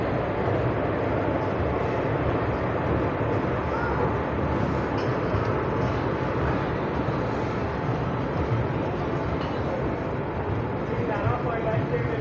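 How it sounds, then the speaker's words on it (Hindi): A superfast express train hauled by a Bhusavali WAP4 electric locomotive runs into platform 1 of a station, giving a loud, continuous rumble and rattle of coaches with a broad station roar underneath. "सुपरफास्ट एक्सप्रेस अभी आ चुकी है प्लेटफॉर्म नंबर 1 पे।"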